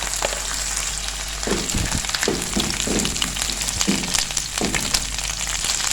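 Ginger-garlic paste goes into golden fried onions in a pan while making sarson ka saag, giving a loud, steady sizzle broken by soft stirring scrapes, with no talking.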